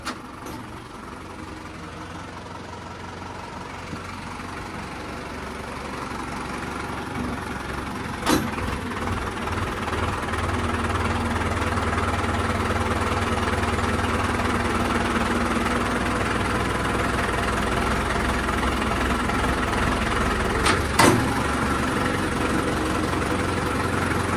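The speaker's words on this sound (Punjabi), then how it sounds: "ਉਹ ਥੋੜਾ ਹੌਲਾ ਹੀ ਟਰੈਕਟਰ ਫੇਰ ਆ ਲੈ ਕੇ ਆਂਦਾ ਇਹ ਭਾਰਾ ਹੈ" Heavy tractor engine idling at a farm, a continuous low rumble that grows slightly louder partway through, with a couple of brief clanks.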